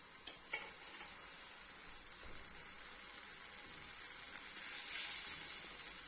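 Faint, steady sizzling from butter melting in a hot pan for menemen, a soft continuous hiss that grows slightly louder toward the end.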